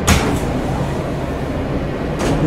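Steady rumble of a New York City B subway train in motion, a continuous low roar with brief hissing bursts at the start and end.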